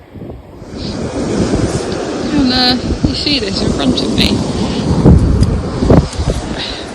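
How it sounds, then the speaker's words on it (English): Rain and gusting wind buffet a UK beach, a steady broadband roar with wind noise on the microphone, heard under a person talking close by. "it's raining and it's windy"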